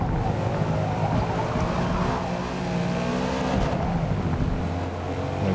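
Race car engine in Forza Motorsport (2023), droning steadily and loudly throughout with throttle modulation and harmonic whine, no talk.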